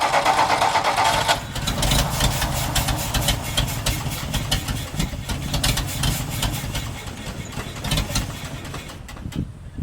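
A 1962 Ford F-350 farm truck engine runs steadily with a muffler fitted, a moderate, even idle with a fast mechanical clatter, fairly close and continuous throughout.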